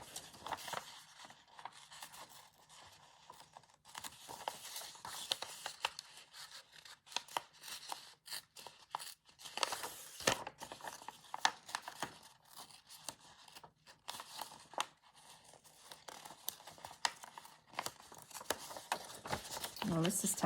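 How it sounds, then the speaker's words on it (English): Paper is torn slowly and carefully by hand around a floral piece for a junk journal, giving close, faint, intermittent ripping and crinkling with small pauses throughout, while someone talks now and then. "I'm going to attempt to just take my time and rip around that floral piece"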